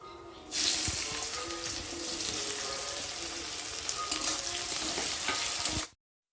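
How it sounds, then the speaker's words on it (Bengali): Raw onions sizzling and frying in hot oil in a wok with whole spices for a chicken curry, a steady loud crackle starting abruptly and running unbroken to a sudden stop, with no voices. "এবার কাঁচা পেঁয়াজগুলোকে দিয়ে ভেজে নেব"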